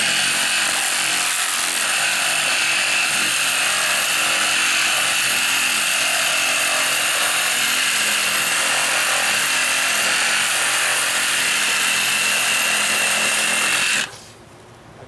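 A power saw blade grinds steadily through a concrete window ledge coated with plaster, a loud, continuous abrasive whine holding for about fourteen seconds before cutting off abruptly near the end.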